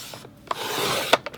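Scrapbook paper is cut to size, giving short, dry scraping strokes: a quiet rub, a steady swish, then a few quick sharp scrapes.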